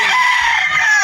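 Gamefowl roosters and stags crowing with a long, loud, wavering call close by, joined by scattered clucks from other birds in a farmyard pen.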